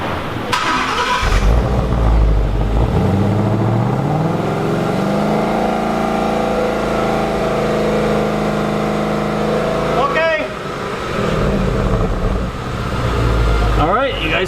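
A car engine revving during a sound test, rising and holding a loud steady drone before dropping off and returning, with people talking over it.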